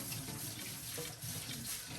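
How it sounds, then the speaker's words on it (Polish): Cold tap water runs steadily into a sink, a continuous splashing rush as rice is rinsed beneath the stream. "Należy go starannie wypłukać pod zimną wodą."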